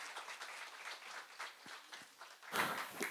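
A live audience claps in sustained, moderately loud applause at a literary stage event as a guest is welcomed up. A louder swell of clapping builds near the end.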